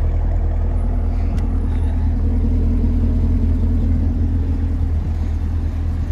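A 2020 Chevrolet Camaro 2SS V8 with 455 horsepower rumbles steadily close by, a deep continuous engine note that holds its level throughout with no voices.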